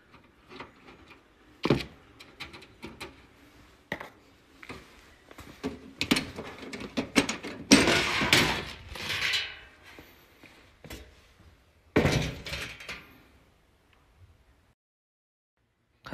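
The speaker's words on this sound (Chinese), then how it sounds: "有两个螺丝，把两个螺丝拧了，它那个机箱盖才打开" Screws are undone and the chassis cover is pulled open on a brand-new Nettrix R620 G40 server, giving a run of close, irregular metallic clicks, scrapes and clunks with a louder burst in the middle, then silence.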